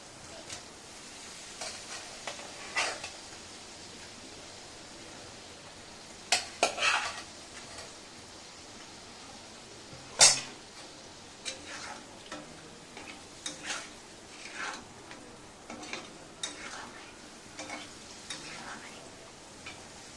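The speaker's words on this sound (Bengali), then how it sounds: "এবার ভাজা আলুগুলো দিয়ে একটু কষিয়ে নেবো" A spatula stirs fried potatoes into cooked spice masala in a pan, scraping and clinking in sparse, irregular strokes over a faint sizzle, quiet and close.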